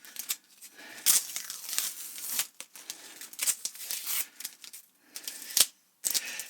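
Taped paper label peeled off a beer bottle, with repeated crinkling, tearing rips in uneven bursts and short pauses, close and fairly loud, no talk.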